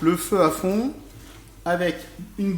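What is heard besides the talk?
No everyday noises stand out.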